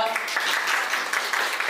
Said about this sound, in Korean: 우리 큰 박수로 맞이해 주시기 바랍니다